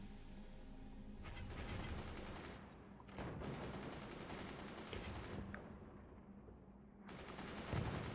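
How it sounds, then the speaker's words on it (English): Mortar fire amid a video game battle: a continuous wash of dense, booming gunfire and explosions at moderate loudness, with a few sharper blasts standing out. "The mortars are flying again"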